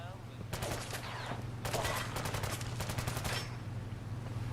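Gunfire in Fallout 4 with the Sim Settlements 2 mod, heard as quiet rapid volleys in a few short clusters, set back against a constant low hum.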